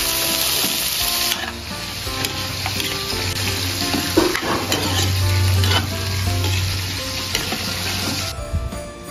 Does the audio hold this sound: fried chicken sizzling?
yes